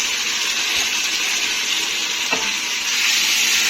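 Beef from the fridge going into a pan of masala for degi gosht curry, a steady close broadband sizzle of frying with a brief stirring scrape partway through, no talk.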